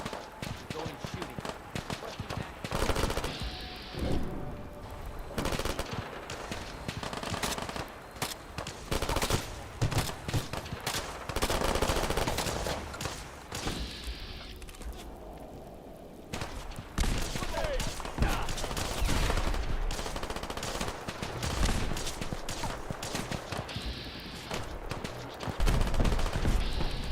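Fallout 4 gunfire comes in dense bursts and scattered shots across a busy combat scene, mixed with impacts and game noise, with voices talking now and then.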